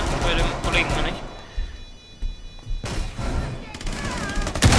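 Gunfire in the video game Rainbow Six Siege, loud bursts of shots and impacts in the opening second and again near the end, with a quieter stretch between and voices talking over it.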